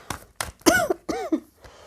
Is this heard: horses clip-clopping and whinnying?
no